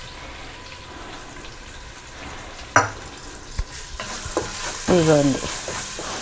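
Ginger garlic paste fries in a pan for country chicken curry: a soft sizzle under clinks and scrapes of stirring, with a brief burst of louder sizzling and a voice speaking briefly.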